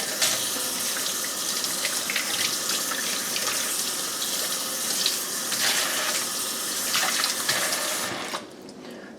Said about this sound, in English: So, actually I'm going to rinse this off, I think.